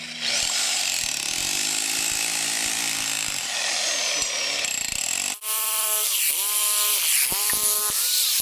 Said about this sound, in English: It's called a roto hammer.